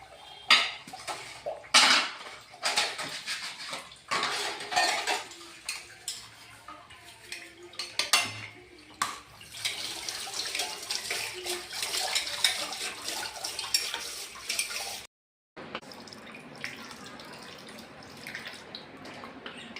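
Dishes, pots and cutlery clatter and clink in a home kitchen sink over running water, with frequent sharp knocks and scraping from scrubbing, moderately close, and no talk.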